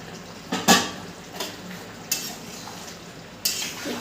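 A utensil stirs a vegetarian potol and rice curry in a cooking pot on a medium flame. Several distinct metallic scrapes and clinks come close and separate, over a quiet background with no talk.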